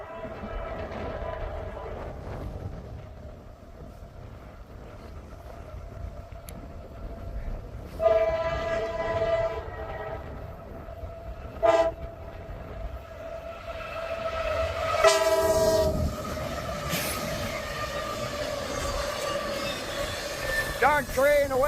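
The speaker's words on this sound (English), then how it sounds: "Here comes a UPS train from what I heard on the dispatcher." CSX freight train hauling UPS cargo approaches on a windy day: a low rumble under wind noise, broken by several loud horn blasts from near to mid distance, with voices talking over it.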